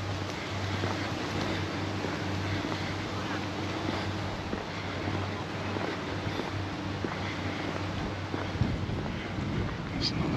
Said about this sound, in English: You just get to these exposed parts and feel the wind.